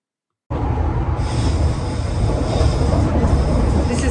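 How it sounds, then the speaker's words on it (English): Passenger train running from Kyiv to Kharkiv, a steady loud rumble of wheels and carriage noise starting abruptly and continuing throughout, with a hissing high-pitched edge, heard from aboard. "here is what the train looks like going from Kyiv to Kharkiv"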